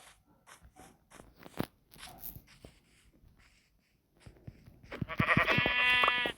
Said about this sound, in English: Two more sheep. Another black sheep.